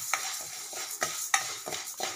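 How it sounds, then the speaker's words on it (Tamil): Moong dal dry-roasting in an empty pan, a quick run of light scraping strokes and dry grainy rattles, soft and close, roughly a handful of separate stirs. "அடுப்பில் வெறும் வாணலியை வச்சுட்டு இந்த சிறுபருப்பை ஜஸ்ட்டு"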